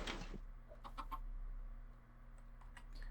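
Chickens cluck in the farming video game RivenRise, a few short, faint clucks over a steady low game hum.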